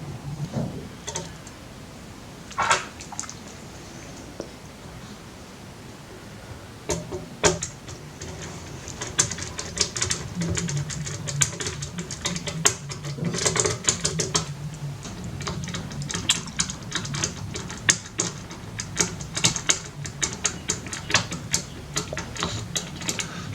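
Screws are driven back into an original fat PS2 console by hand, a long run of small close clicks, ticks and scratchy plastic handling noises that grow busier toward the end.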